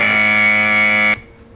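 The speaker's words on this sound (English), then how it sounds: "Short buzzer. Long buzzer." A loud, harsh electronic buzzer drones steadily for about a second, then cuts off abruptly, leaving faint room noise.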